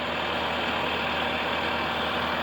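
An LS brand tractor engine runs steadily in snowy conditions, a constant low diesel rumble with a dense even drone and no pauses or change in pitch across the short stretch.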